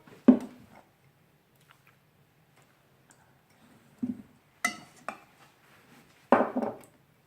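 Egg yolk being mixed into frangipane in a bowl, heard as sparse clinks and taps of utensil against the bowl with quiet gaps between.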